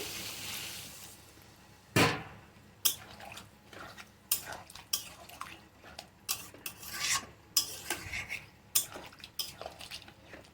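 Water goes into a potato, ridge gourd and soybean curry and a spoon stirs it, with repeated scraping and clinking against the metal pot at an uneven rhythm, close and clear.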